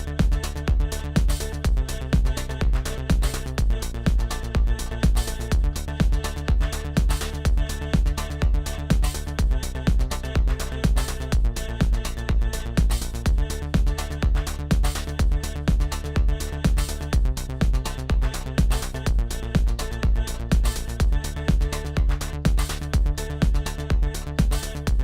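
An indie dance track built in Ableton Live plays back loud and dense, with a pounding four-on-the-floor kick, steady hi-hats and sustained synth chords changing every couple of bars, running continuously without any talking.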